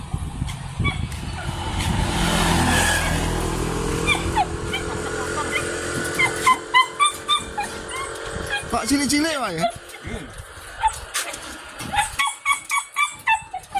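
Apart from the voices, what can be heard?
dogs barking and whimpering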